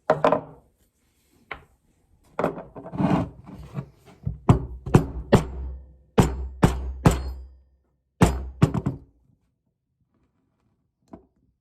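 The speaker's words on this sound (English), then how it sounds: "Just using a chisel here. Once you get it started, it'll pop right out." Steel chisel struck against the old seal in a Yamaha outboard lower unit during a seal replacement, giving a run of sharp, close knocks and thunks, some single and some in quick clusters, with short gaps of quiet between them.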